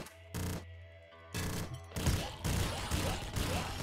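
Rapid bursts of gunfire in the top-down shooter Nuclear Throne (Ultra Mod), with several volleys firing multiple projectiles each, loud and punchy, separated by short gaps and then overlapping in dense succession.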